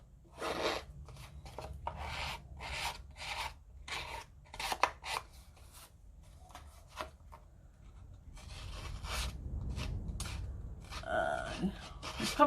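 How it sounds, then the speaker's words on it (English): Scissors blades scrape and rasp along the edges of a paper card to rough them up, giving a run of short, close scratchy strokes in an uneven rhythm over a low background rumble. "going to rough up the edges here. I'm just going to use my scissors"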